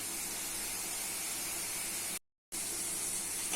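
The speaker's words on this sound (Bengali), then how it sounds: "মশলা কষা হয়ে গেছে নিয়েছি চিংড়ি শুক্তি ভালো করে কষে নিতে হবে" Dried shrimp frying with spices in a pan gives a continuous loud hiss and sizzle, briefly cut off by a short gap of silence before resuming.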